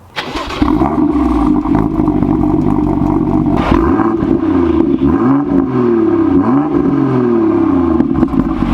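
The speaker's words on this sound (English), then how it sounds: "One thing I thought I should mention is the exhaust. Take a listen." A BMW M2 engine starts up and then revs repeatedly, its loud exhaust rising and falling in several throaty bursts with no talking.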